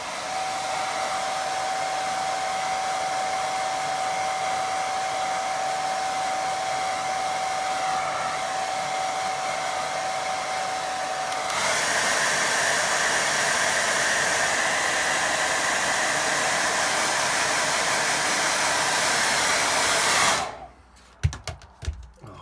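A hair dryer blows over a watercolour painting of a distant lake, a steady close whoosh that runs for about twenty seconds, brightens in tone partway through, then cuts off with a few handling clicks.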